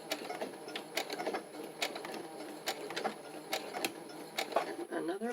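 A sewing machine stitches pages of a junk journal, giving a close, steady run of rapid mechanical clatter with regular needle ticks over several seconds.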